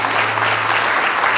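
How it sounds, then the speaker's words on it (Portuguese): A church congregation applauds in a dense, loud, continuous wash of clapping that fills the whole moment, with no distinct voices. "Você pode aplaudi-lo?"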